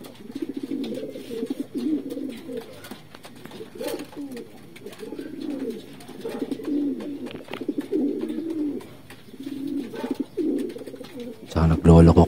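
A returned homing pigeon coos in soft, low repeated phrases, close and steady, with a brief louder knock of handling noise at the very end.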